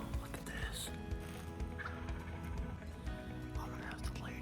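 A wild turkey gobbles repeatedly in an open field, its rattling calls rising over a steady, loud outdoor background with a low hum, heard from a moderate distance.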